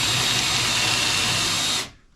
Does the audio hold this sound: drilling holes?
yes